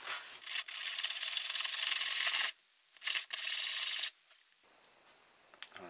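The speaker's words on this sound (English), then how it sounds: "these tend to have a bit of a rough edge around the bottom, so I've got a bit of sandpaper here" Sandpaper rubbed against the rough bottom edge of a homemade hovercraft part, a close, steady scratching that runs in a long stroke, then a short burst and another stretch before going quiet.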